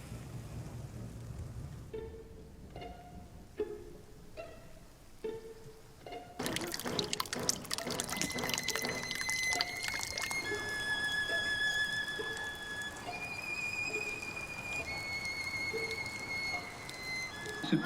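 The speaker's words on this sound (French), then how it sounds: "Il pleut." Rain falls outdoors during the harvest season, starting with a few separate drips and then building into a dense steady patter that continues to the end, moderately loud with no talking.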